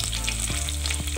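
Crushed garlic frying in hot oil for a drumstick rasam tempering, a steady close sizzle with brief stirring bursts, no talk.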